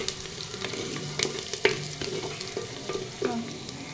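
Eggplant frying in a pan, a steady sizzle broken by a few louder stirring scrapes and clinks, close and moderately loud with no talking.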